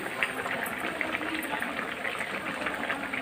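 Water boiling in a pot before fish is added, a steady close bubbling and rolling hiss with small pops throughout.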